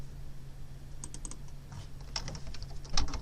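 Keys clicking on a computer keyboard while a query is typed into Microsoft Access, coming as quick, faint, scattered taps over a steady low electrical hum, with no talking.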